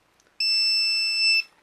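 A single shrill electronic beep from a pager, holding steady for about a second before cutting off, close and loud.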